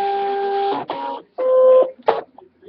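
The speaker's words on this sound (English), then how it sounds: "So I'm going to put this in" Brother ScanNCut cutting machine pulling in fabric backed with paper towel, a sequence of loud motorized whirring runs with brief pauses between them and a few short clicks at the end, with no talking.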